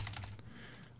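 Rapid tapping of keys on a computer keyboard, a short close burst of several clicks at low level with no voices.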